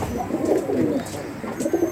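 A domestic pigeon coos in soft, repeated throaty rolls, close by and fairly clear, with no talking over it.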